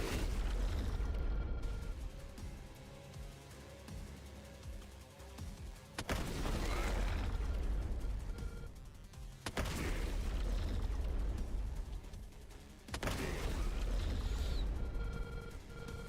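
Overheat cannon blasts from The Last Spell, a tactics game, fired in Lakeburg: three loud, heavy booms arrive a few seconds apart, each with a broad rumbling tail that settles into a steady low roar before the next.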